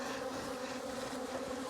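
A swarm of bees buzzes loudly and steadily, close and dense, with no voices.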